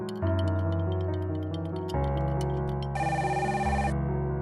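A telephone rings in a 3D animated coffee-shop scene, a loud steady electronic ringtone with shifting tones that carries on for several seconds without any voices.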